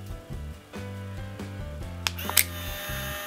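Fujifilm Instax Mini 8 instant camera pushing out a print, a short motorized whir with a few clicks near the end, heard close and alone.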